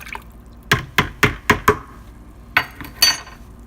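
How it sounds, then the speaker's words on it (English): Distilled water splashes into a juniper berry wine mash in a run of sharp, separate glugs and drips, five quick ones and then three more after a pause, close and fairly loud with no talking. "So I'll add in another 4 or 5 cups of distilled water"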